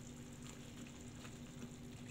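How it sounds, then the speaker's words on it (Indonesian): Rawon spice paste with lemongrass, galangal and leaves sautés in a pan, giving a faint, even sizzle that continues unbroken with a low background hum. "Tumis kembali sampai menjadi agak kering dan"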